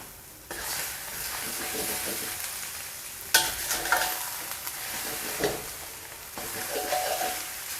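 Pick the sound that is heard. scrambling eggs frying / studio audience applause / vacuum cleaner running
scrambling eggs frying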